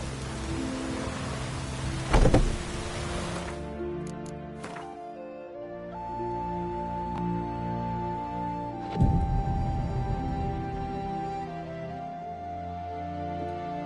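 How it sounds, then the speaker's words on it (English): Steady rainfall in The Witcher 3: Wild Hunt, with hiss and patter mixed with a couple of low rumbling bursts and game music playing over it. "Rain's back again."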